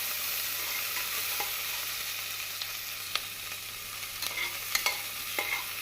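Onions sauté in a hot pan for vegetable biryani, a steady bright sizzle with repeated clinks and scrapes of a spoon stirring them, with no one talking.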